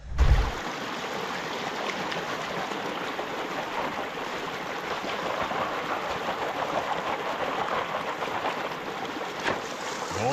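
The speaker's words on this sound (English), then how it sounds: "let's go pan this out" Gold panning in a stream, a continuous rushing and splashing of water that stays steady and close throughout, with no talk.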